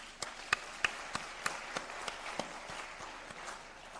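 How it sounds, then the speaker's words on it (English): An audience applauds a distinguished lecturer after a university lecture on finance and African development, with steady, fairly faint clapping and a few sharper claps standing out over four seconds. "let's give him another hand of applause"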